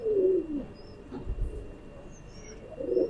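A male teddy pigeon cooing close by, low throaty warbles at the start and again at the end, with faint chirps in the background.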